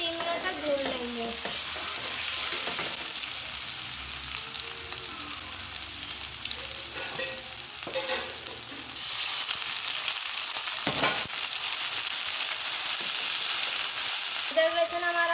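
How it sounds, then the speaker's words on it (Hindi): Ginger garlic paste sizzles and fries in a pan for aloo ka bharta, a steady close hiss with occasional scraping as it is stirred. "अब हम इसमें अदरक लहसुन का पेस्ट डालेंगे और इसे भी 2 से 3 मिनट तक भून लेंगे।"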